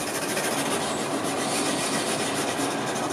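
A pencil rubs continuously over paper while shading a plaster cast drawing of a face around the lips and cheek, a close, dense, even scratching with no pauses and no talking.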